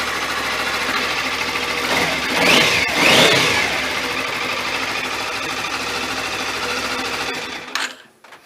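A Suzuki V-Strom 250 motorcycle engine runs after a valve adjustment with a busy, steady idle, rising in two brief revs before it cuts off near the end.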